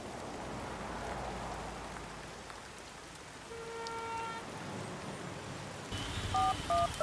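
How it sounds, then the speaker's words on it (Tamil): Steady rain falls at a bus stop, a dense even hiss throughout, with a few electronic tones and beeps from a phone entering toward the end. "மழை வருது."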